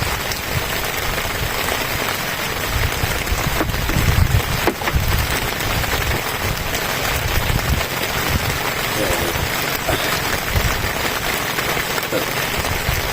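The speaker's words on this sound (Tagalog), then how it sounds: "Lumakas yung ulan." Heavy rain pours steadily across the whole stretch, a dense, continuous hiss with occasional louder drops, close and constant, heard while out fishing at sea.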